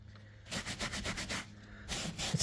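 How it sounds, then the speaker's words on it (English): Rhythmic scrubbing of a synthetic carpet during a deep cleaning job, a run of brisk rubbing strokes close up, a short pause, then more scrubbing, with no talk. "all I gotta do is just scrub it."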